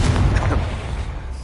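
A Confringo spell explodes in the Hogwarts Legacy video game, a loud booming blast with rumbling low end that fades out over about a second and a half.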